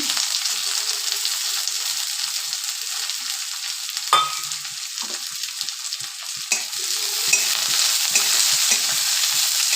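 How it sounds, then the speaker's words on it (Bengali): Onion, garlic and green chilli fry in hot oil with a loud, continuous close sizzle. A few sharp stirring scrapes and taps cut through the hiss. "ডাইরেক্ট পেঁয়াজ রসুন কাঁচা লঙ্কা দিয়ে দিতে হবে তেলে।"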